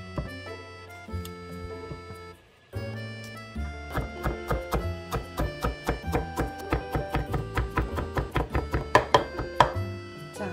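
A knife chops garlic on a board for a North Korean chicken rice dish, starting with a few scattered cuts and building into a fast, even run of crisp taps up close, with no voices.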